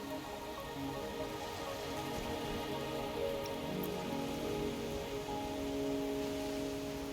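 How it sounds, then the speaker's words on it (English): Steady rain falling in the video game Wuthering Waves, a dense even patter with faint drips, continuous and moderately loud on its own with no talking. "Are you trapped here by the rain?"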